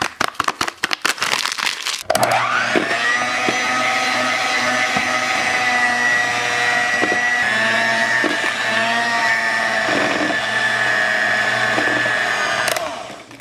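An electric mixer whirs steadily at close range as vanilla pudding mix is beaten into a cake mixture, a loud constant motor drone with a bright whine, preceded by brief rattling clicks and stopping at the end.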